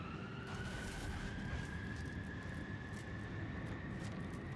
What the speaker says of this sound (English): I thought I heard sirens.